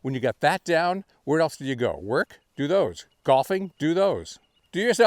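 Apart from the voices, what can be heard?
None of the usual background noises is heard.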